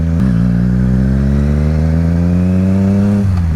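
A motorcycle engine revs hard and close while riding, its pitch climbing steadily through the gear before a shift drops it near the end.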